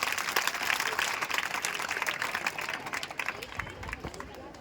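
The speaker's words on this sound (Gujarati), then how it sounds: "એટલે એના માટે જોરદાર તાળીઓ પાડો." Audience at a primary school annual function applauds a dancer, clapping filling the hall as a broad steady wash with crowd murmur, thinning toward the end.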